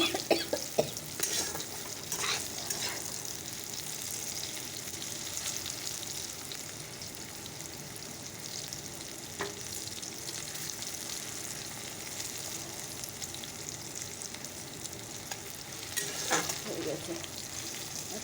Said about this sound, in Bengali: করলাগুলো ভাজা হয়ে গেল তো চলো গ্যাসটা বন্ধ করি